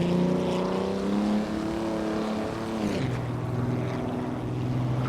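Auto Union Type C race car at the Feldbergring, its engine droning loud and steady with rich harmonic tones, pitch easing down then settling lower as the car passes at speed.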